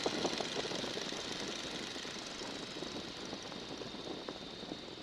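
Boeing-Stearman N2S-3 biplane radial engine pulled back to idle, a faint, steady low rumble with rough knocking pulses under constant wind and cockpit noise.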